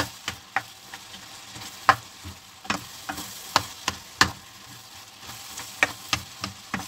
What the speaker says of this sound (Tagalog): At imimix natin siya hanggang sa maluto